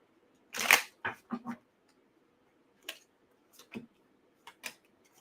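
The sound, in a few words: shuffling tarot cards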